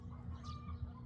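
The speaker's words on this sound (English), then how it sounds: "the chickens are singing over there" Chickens cluck faintly outdoors on a morning in Seosan, South Korea, a soft, distant fowl sound over low ambient rumble, with no talking.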